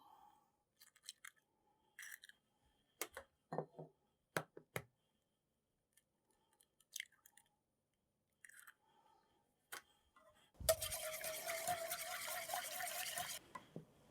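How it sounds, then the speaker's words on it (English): Eggs being whisked into a molasses spice ginger cake batter in a bowl. Faint scattered clinks and scrapes come first, then a few seconds of steady, brisk whisking close by, with no speech. "now I'm going to whisk the eggs in"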